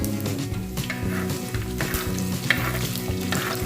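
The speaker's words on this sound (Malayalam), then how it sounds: "ഇഞ്ചിയും വെളുത്തുള്ളി ഇട്ട് നന്നായി വഴറ്റി ഇളക്കി എടുക്കുക." Ginger and garlic sauté in hot oil for a pickle, giving a loud, steady sizzle that runs throughout with the scrape of stirring over it.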